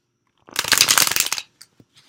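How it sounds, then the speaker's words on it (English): Tarot cards are shuffled in one quick riffle, a dense crisp flutter lasting about a second, followed by a few soft taps. "Am I the only one who thinks the sound of shuffling is super, like, relaxing?"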